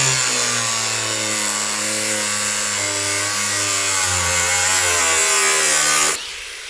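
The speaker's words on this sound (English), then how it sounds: "Up next, we have a Harbor Freight angle grinder." Harbor Freight angle grinder cutting into a gun safe, a loud continuous whining grind with shifting pitch that holds steady for about six seconds, then cuts off abruptly.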